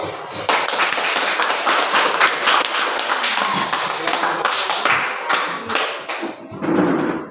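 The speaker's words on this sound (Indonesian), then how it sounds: "silakan beri aplaus kepada kelompok 1" Classroom applause for a student presentation group in a teacher-training session, dense clapping from many hands sustained for about seven seconds, loud and close, fading briefly near the end before a final burst.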